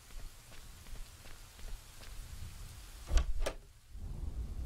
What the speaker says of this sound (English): how bad is this storm?